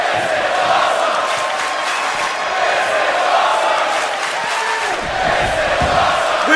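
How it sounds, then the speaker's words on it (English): Wrestling arena crowd chanting in unison during an indie match, a loud sustained roar of many voices with rhythmic chant swells, close and continuous. "this crowd is already chanting, "This is awesome!""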